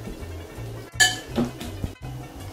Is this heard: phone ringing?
no